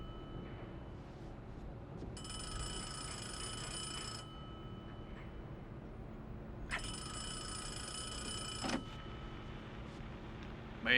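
An old-style telephone bell on a boat rings in two long bursts over a steady low engine hum, moderately close, with no talk over the rings.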